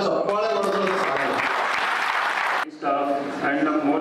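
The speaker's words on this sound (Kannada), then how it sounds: "ನಾವು ಅವರಿಗೆ ಎಷ್ಟು ಜೋರಾದ ಚಪ್ಪಾಳೆ ಹೊಡೆದ್ರು" An audience at a Guruvandhana programme for the disabled in Ballari breaks into sustained applause, many hands clapping loudly together under a speaking voice, with the clapping fading toward the end.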